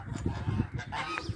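Poultry calls at a farmyard coop where geese and chickens are kept, short honking and clucking notes in quick succession, fairly faint against low background rumble.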